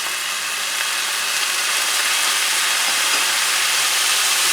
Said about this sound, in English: a little under a quarter cup of low sodium soy sauce that I'm going to add to this